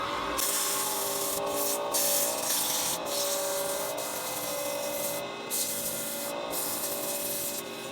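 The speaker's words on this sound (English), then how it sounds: "So I'm just gonna sand it down, and then I think I'm gonna burn it." Sycamore pen blank being sanded on a spinning wood lathe, a close continuous abrasive rubbing hiss with the lathe's steady hum underneath and short pauses as the paper shifts, no talk.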